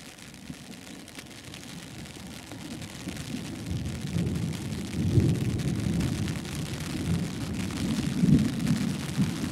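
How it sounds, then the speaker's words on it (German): Rain falls during a thunderstorm as a steady low hiss, with rumbling swells that grow louder over about ten seconds, heard alone without voices. "Ein bisschen Regen ist immer noch mit dabei, aber egal."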